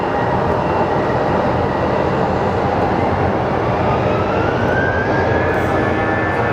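An American Airlines airliner, flight 854, roars at Phoenix Sky Harbor on a rainy day, a loud, steady broadband engine rumble and whine heard close, with a rising tone near the end.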